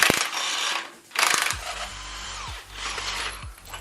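Ratchet wrench backing out bolts on a car's transmission during a Spec Stage 2 clutch install with a Kevlar disc, fast clicking bursts repeating in close, loud spurts with brief pauses between.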